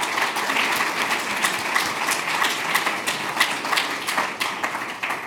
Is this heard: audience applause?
yes